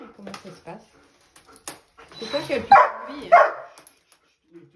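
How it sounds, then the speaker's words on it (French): An excited dog whimpers and gives short yips and barks before going out for a run, the sounds mixed in with a person speaking French close by. "C'est un chien qui est excité qui va aller courir?"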